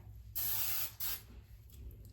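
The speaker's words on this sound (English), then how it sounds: "I recommend spraying it with hairspray." Hairspray misted from an aerosol can onto a curled ponytail, two close hissing bursts, a longer one then a shorter one, with no talking.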